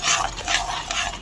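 Spices are stirred and fried in a pan with cumin powder and garam masala, giving a close, scraping sizzle in short, repeated strokes.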